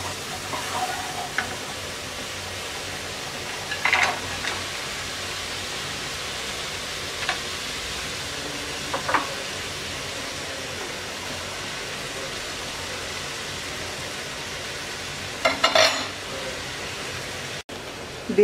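A dried fish curry keeps up a low, steady sizzle in the pan as amaranth stems and jackfruit seeds go in. A few scattered scrapes and clatters of stirring break through, with one cluster near the end.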